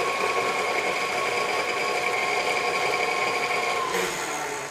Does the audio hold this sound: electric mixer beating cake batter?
yes